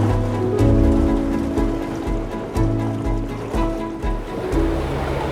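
Water rushing and churning loudly and continuously into a canal lock as it fills fast, with a deep surging rumble that swells and dips.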